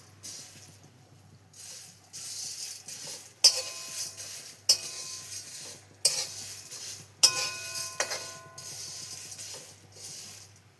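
Whole spices, including nagkesar, are stirred and dry-roasted in a pan for kala masala: bursts of scraping and rattling spaced a second or so apart over a quiet, faint background.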